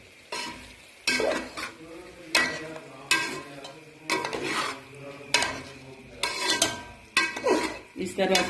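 Fried arbi (taro) stirred into roasted masala in a pot, a spoon scraping in repeated strokes about once a second over a steady sizzle, close and fairly loud.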